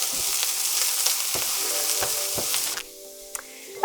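Eggplant pieces sizzle and crackle steadily as they fry in a pan, with several stirring scrapes, then the sizzle drops to a quieter hiss with a couple of soft clinks near the end.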